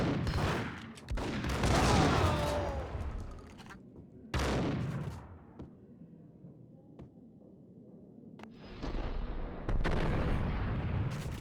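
Grenade blasts in Max Payne, the 2001 Windows game, come as several loud, booming bursts with rumbling tails and short quiet gaps between them.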